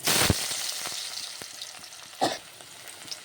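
Potatoes frying in oil in a pan, a faint steady sizzle with a louder burst as they go in, then a couple of stirring scrapes.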